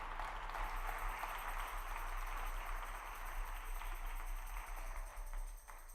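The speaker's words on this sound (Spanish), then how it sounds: "Le damos un aplauso a Él" A church congregation claps together in sustained applause, moderately loud and even over a low electrical hum, fading slightly at the close.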